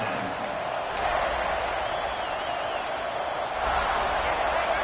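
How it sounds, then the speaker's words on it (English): Stadium crowd in the CFB26 college football video game roars in a steady, dense wash of noise, swelling slightly at moments, with faint whistle-like tones drifting through. "It's early, but this crowd is fired up. Listen to this noise here."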